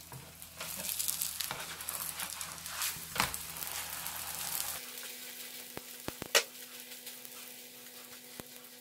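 Layered msemen flatbread cooks in a hot pan with a steady sizzle and occasional scraping, followed by a quieter stretch broken by a few sharp clicks and knocks.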